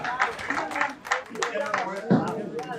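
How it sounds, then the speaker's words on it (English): Scattered applause from spectators at a duckpin bowling pro tour qualifier at Dudek Bowling Lanes, a short ripple of clapping under a commentator's talk. "He even gets applause for single pins."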